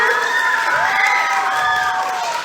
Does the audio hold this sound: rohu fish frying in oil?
no